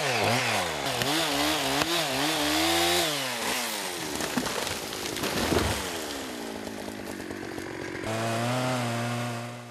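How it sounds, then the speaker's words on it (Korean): A chainsaw roars close by while felling a thick tree in a Russian winter forest, its pitch rising and dipping as it bites into wood, with grinding, rasping cutting noise in the middle. "톱질이 계속 반복된다."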